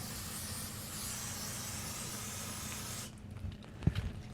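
Water from a hose sprays onto a 1972 VW Super Beetle, a steady close hiss that cuts off about three seconds in, followed by a few faint drips and knocks.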